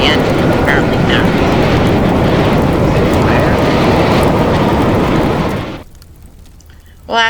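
A firefighting airplane in the video game Teardown roars loudly overhead as a dense, continuous wash of engine noise that suddenly drops away near the end, leaving quieter game sounds.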